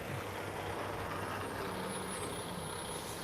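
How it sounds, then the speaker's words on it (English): An aggregate hauler truck moving soil at the SpaceX Starbase site in Boca Chica, Texas, gives a steady, fairly distant low engine rumble with broadband road noise that stays constant throughout. "This is one of those trucks that's moving the soil."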